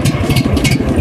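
A brush cutter's small engine catches and runs with the choke pulled and throttle set slightly high, a loud, close, rapid pulsing putter that holds steady.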